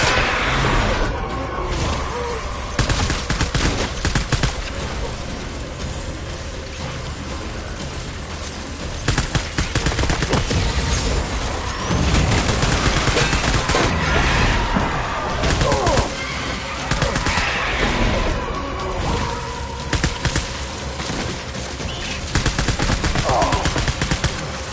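Gunfire in the Death Stranding video game: continuous heavy automatic fire with rattling bursts and booms throughout, loud and dense, layered over game ambience.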